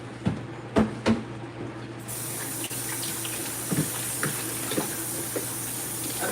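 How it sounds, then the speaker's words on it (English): Tap water runs steadily into a kitchen sink as a piece of meat with the skin removed is rinsed off, a few clunks at the start, then a constant close hiss with faint knocks. "Gonna rinse it off and season it."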